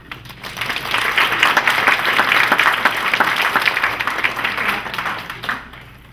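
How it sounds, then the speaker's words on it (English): Audience at a career development conference session applauding a speaker: dense, sustained clapping that swells quickly, holds steady for several seconds, then thins out and fades, with no talking over it. "I would like to applaud him and welcome him."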